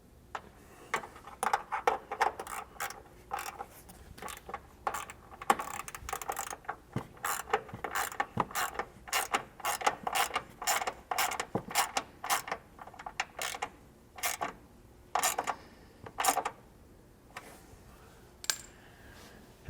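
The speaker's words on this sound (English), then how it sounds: "now you can tighten up any fasteners that you loosened in here before." A ratchet snugs up fasteners inside the front aluminum fender of a Jeep JK Wrangler, rapid clicking bursts coming close and clear in uneven spurts with brief pauses, with no talking.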